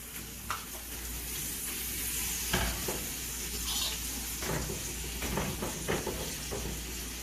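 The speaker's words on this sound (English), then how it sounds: "Now we're going to work on the sauteed onions." Onions seasoned with salt and pepper sauté in butter and a little oil in a pan, a steady close sizzle with occasional scraping stirs of a utensil.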